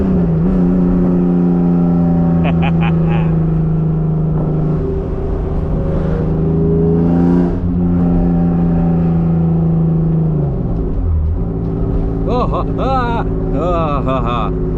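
A 1992 Acura NSX with an aftermarket exhaust accelerates on the road, its loud engine note climbing steadily through the gears with a sudden drop. Another car's engine rises near the end, heard from inside the cabin.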